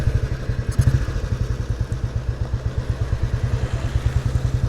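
A Royal Enfield Bullet 350 motorcycle engine thumps along steadily at a slow, even, low-pitched pulse while riding on the road, close and constant with a little mechanical clatter.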